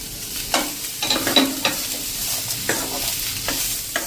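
Chopped capsicum and other vegetables fry in a pan, a steady close sizzle broken by several scraping stir strokes and light clatters from the spoon, with no voices.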